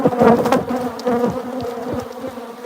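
Honeybees in a bee yard drone in a dense, continuous buzz, with individual bees passing close to the microphone over the swarm, loud and with no voices.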